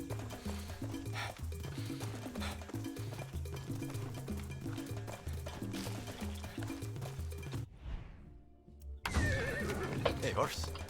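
A horse in Far Cry 6 whinnies loudly over a steady game music bed, with clopping hooves, a brief drop to near silence, then the noisy game scene returning.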